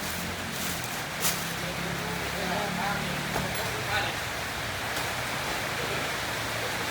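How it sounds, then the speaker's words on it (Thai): Rain falls in a steady, even hiss that fills the background, with a voice faintly present beneath it. "อ้าวฝนตกอีกแล้ว"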